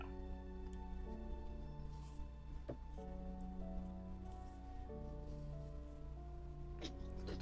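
Steady rain falling on surfaces, a soft even patter running throughout as background ambience for a tabletop role-playing session, with sustained musical tones layered over it and no talk.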